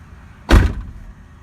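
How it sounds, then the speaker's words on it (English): The door of a 2006 Ford Mustang shuts with a single solid, close thump that decays quickly into near silence. "And let me go ahead and shut the door."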